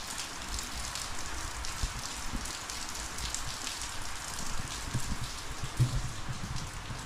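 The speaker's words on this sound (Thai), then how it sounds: "ฝนตกเลย" Steady rain falling at a forest temple ringed by mountains, a dense continuous patter on surfaces with scattered louder drips, filling the scene without any voices.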